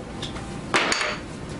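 A hammer strikes a Fiber Force panel and shatters it, giving one short sharp crack with a brief glassy crunch against a quiet background hiss.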